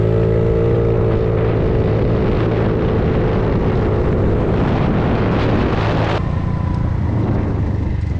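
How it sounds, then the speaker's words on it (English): A 50cc GY6 scooter engine fitted with a bigger carburetor jet revs loudly and steadily, droning with rising pitch as it accelerates, then shifts tone near the end, with constant wind rush and no talking. "the scooter runs way better with the bigger jet in there"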